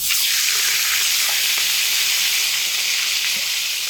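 Fresh pond fish sizzle loudly in hot oil in a pan, a dense, steady hissing crackle heard up close and unbroken, with occasional faint pops and no voices.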